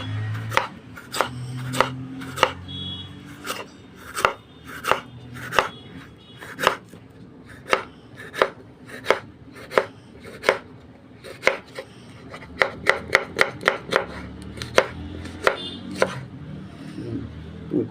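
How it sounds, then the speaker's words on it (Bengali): A knife chops capsicum into fine julienne strips on a board, giving a long run of crisp, evenly spaced close taps that speed up into quick bursts toward the end, with no voices. "খুব সুন্দরভাবে কেটে দিয়েছি ক্যাপসিকাম।"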